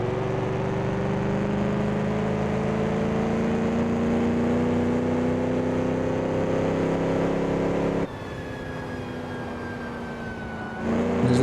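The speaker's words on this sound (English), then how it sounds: "Let's listen to the engine." A 1938 race car engine from Assetto Corsa on the Coppa Acerbo circuit at Pescara drones at steady high revs with layered harmonics, then drops to a lighter note, with a whine rising near the end.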